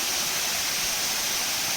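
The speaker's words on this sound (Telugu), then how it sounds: "ఎంత అద్భుతంగా ఉందో వాటర్ ఫాల్స్ అద్భుతమైన water falls గండాత్రి water falls Orissa బార్డర్లో ఇది మనకి కనపడుతుంది" Gandatri waterfall in a forest on the Orissa border, a steady, dense rush of falling water, continuous and even throughout with no other sounds.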